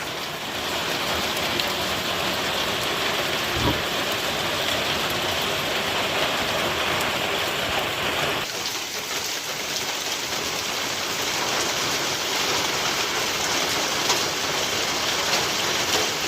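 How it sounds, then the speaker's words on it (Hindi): Heavy rain pours down steadily on a mountain hillside home, a dense continuous hiss of drops hitting surfaces that stays loud throughout, shifting slightly in tone partway through as the nearby spray changes. "और बारिश देखो और तेज़ हो गई"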